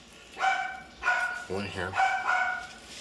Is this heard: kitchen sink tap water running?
no